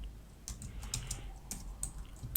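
Typing on a computer keyboard, a quick, uneven run of close, light key clicks, heard alone.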